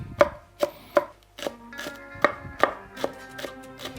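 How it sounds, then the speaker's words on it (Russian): Knife chopping ingredients on a board while preparing bakhsh, a Central Asian rice dish; crisp, irregular knocks roughly every half second, close and clear with no talk. "Основная работа пока идет вот нарезка."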